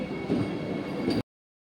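Interior of a fully air-conditioned passenger train, a steady rumbling drone with a faint rhythmic wheel clatter, continuous and even for about a second before cutting off abruptly to silence.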